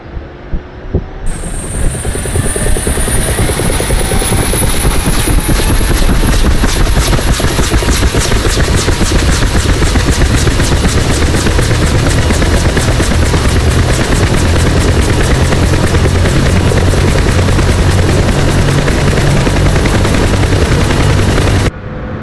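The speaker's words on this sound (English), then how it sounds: "The helicopter will toss you around quite a bit as the rotor spins up." A UH-1 Huey helicopter rotor in DCS World whines up and settles into a loud, steady rhythmic thumping with a constant high-pitched turbine tone, continuing without pause.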